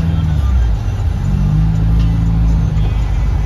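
Inside a 2015 Subaru WRX turbocharged sports car on the move, a loud, steady engine and road rumble dominates, low and continuous throughout without clear revving peaks.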